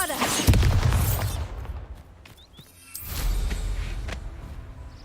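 Bombarda explosion spell in Hogwarts Legacy goes off with a heavy boom and whooshing burst, a loud blast followed by a lull and then a second rumbling impact.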